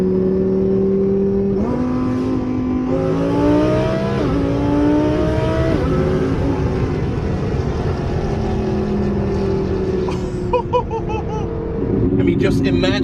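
A 1500 hp twin-turbo Lamborghini Huracan built by SheepeyRace, its engine loud and close, climbing through several rising revs with pitch steps as it accelerates, then easing off.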